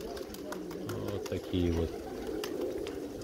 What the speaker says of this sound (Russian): Просто покажу голубей